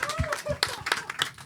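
Audience applauding at a talk event with a UK Jamaican artist, short bursts of clapping over a voice and crowd.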